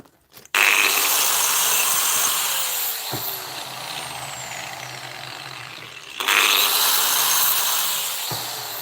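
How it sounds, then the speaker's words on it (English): A cutting disc on a grinder shrieks against thin 304 stainless steel in two long, loud bursts, separated by a brief pause as the grinder dips and rises again. "I'll go with a cutting disc first."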